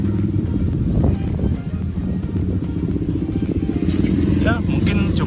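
A modified Honda Vario scooter engine rumbles steadily beside a road, a close, continuous low putter with light mechanical clatter, and a voice talks over it.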